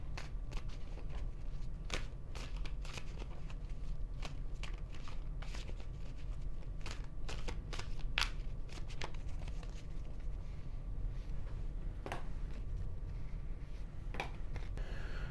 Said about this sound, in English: Let me go ahead and shuffle and start throwing them now.